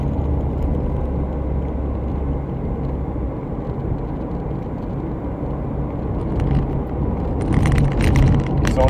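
Steady low road rumble from inside a car driving in traffic beside a large truck, continuous engine and tyre noise swelling slightly toward the end with some higher whirring, no voices.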